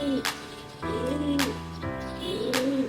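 Pigeons in a loft give repeated low, rolling coos, three swelling phrases close by, each broken by a sharp click or flutter.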